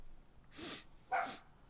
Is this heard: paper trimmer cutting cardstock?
no